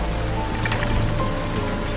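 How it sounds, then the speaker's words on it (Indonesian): Rain falls in a steady, dense patter on surfaces, a constant wash of drops with no voices. "Namun tak lama kemudian hujan pun tiba-tiba turun, Mehmet terpaksa bergegas pergi."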